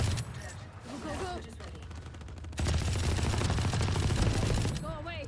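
Rapid automatic gunfire in a video game, bursts crackling in the foreground over game ambience, with brief vocal sounds early and the firing denser and louder in the second half.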